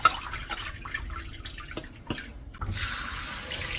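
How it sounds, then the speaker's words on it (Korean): Soaked seaweed is drained and rinsed in a strainer: scattered drips and light splashes come first, then a steady rush of tap water runs near the end. "10분 정도 불린 미역을요, 채에다 버린 후에요."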